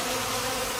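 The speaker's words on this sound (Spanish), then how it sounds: "El control de la temperatura lo realiza la abeja batiendo las alas" Honey bees fan their wings inside a hive to regulate its temperature, producing a dense, continuous, close buzzing hum with no voices.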